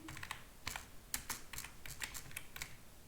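Typing on a computer keyboard, quick irregular clusters of close, faint key clicks with short pauses between them, no talking.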